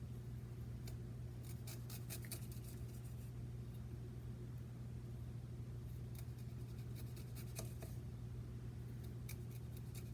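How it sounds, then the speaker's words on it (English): A knife cuts peeled ginger into thin slices, giving a scatter of quiet, crisp taps and short scrapes over a steady low hum of background noise. "I'm just going to cut it into little thin slices"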